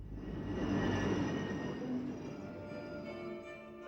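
A Soviet passenger train rumbles and clatters close by, swelling then easing into a steady rolling noise with a brief high squeal, and no voices.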